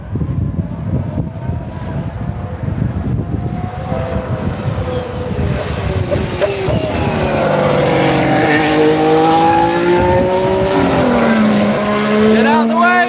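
An Alfa Romeo Formula 1 car revs up for a practice start during testing at Barcelona, its high-pitched engine climbing through rising gear tones, loud and near, with voices talking underneath.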